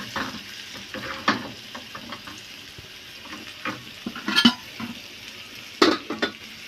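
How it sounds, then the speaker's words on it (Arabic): Garlic frying in a pan while it is stirred, with soft scraping and sizzling and a few louder clinks of utensil on pot, heard up close with no talk. "نحمر بقى التوم كده."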